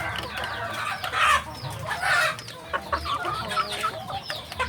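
Free-range village chickens cluck and call nearby, a busy overlapping stream of clucks with a couple of louder squawks rising above the flock.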